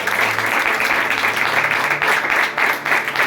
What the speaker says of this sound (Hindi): ये तालियों वाली बात है।